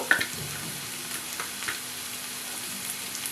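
Mushrooms frying in a pan with spices for a restaurant-style curry give a soft, steady sizzle with light stirring taps, moderately quiet and close, with no one talking.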